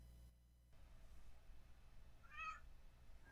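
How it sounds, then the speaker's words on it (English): A cat gives a single short, faint meow in a quiet room, brief and high against a low background hum. "The cat just made a point."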